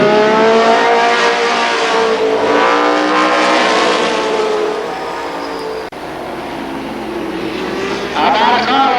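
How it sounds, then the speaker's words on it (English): Modified race cars roar past at Columbus Motor Speedway, a loud sustained engine howl with shifting pitch as the pack passes, while an announcer talks over the racing. "The white flag this time for Don Wetnall as Maynard pulls up on his back bumper"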